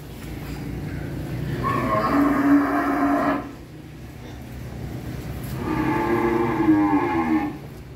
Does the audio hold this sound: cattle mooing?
yes